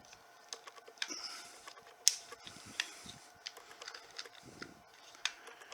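Quiet, irregular metallic clicks and snaps as rounds are pressed one by one into a magazine, close up with a faint background hum and no talking.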